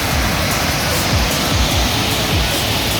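Waterfall in Munich, a loud, steady rushing roar of falling water that stays constant and close throughout, with no voices.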